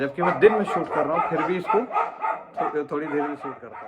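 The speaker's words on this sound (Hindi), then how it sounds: "अब ये कुत्ता फिर से भौंक रहा है" A dog barks repeatedly in the background during an indoor lecture, its yaps and barks mixed under continuous talk from a teacher.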